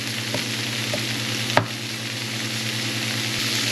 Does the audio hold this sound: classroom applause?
no